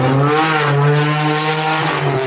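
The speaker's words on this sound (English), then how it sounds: "That was a tuk-tuk with a hole in the exhaust." A tuk-tuk with a holed exhaust passing close on a street in Bangkok's Chinatown, a loud, raspy, buzzing engine drone that shifts pitch as it goes by.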